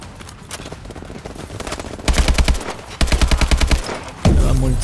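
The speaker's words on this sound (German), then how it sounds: "Aber ich habe auch gar nicht mehr so viel Schüsse." Automatic gunfire in the video game Call of Duty Advanced Warfare comes in loud rapid bursts, two sustained volleys then a heavy blast at the end, over game background noise.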